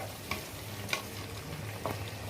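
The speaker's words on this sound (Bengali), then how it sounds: "একটু সাবধানে নাড়তে লাগবে বেগুনগুলো তো সব ভাজা নরম হয়ে গেছে" Soft fried eggplant pieces being gently stirred in a pan with mustard and poppy seed paste for shukto, giving a low steady sizzle with three brief scraping strokes spaced about a second apart.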